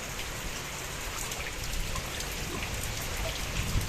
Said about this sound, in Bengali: মানে বৃষ্টি তো হচ্ছে, তার সঙ্গে হাওয়াও দিচ্ছে